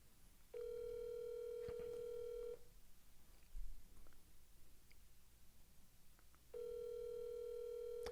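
A telephone call's ringback tone, two long steady electronic rings separated by a quiet gap with faint room noise, heard close and alone with no one speaking.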